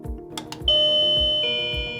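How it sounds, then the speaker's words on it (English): A WaveLink wireless doorbell receiver plays an electronic chime tune: two sustained melodic tones ring out in sequence, clear and fairly loud, over faint background clatter with no talk. "change the doorbell tune"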